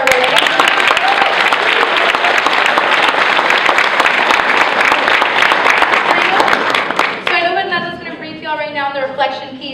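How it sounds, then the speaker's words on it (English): Sustained audience applause for women panelists at a youth scholars and community panel, dense clapping for about seven seconds before it fades and a voice begins speaking. "Can we get another applause for our ladies?"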